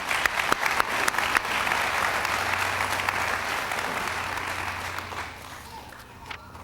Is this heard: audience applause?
yes